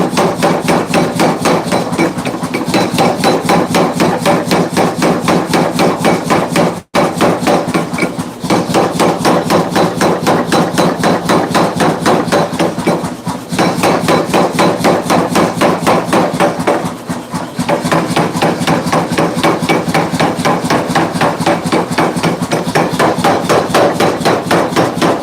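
Steady, fast hammering on hot steel in a blacksmith's shop to stretch a forge weld, a loud, close, even run of metallic blows continuing for about 25 seconds with only brief pauses.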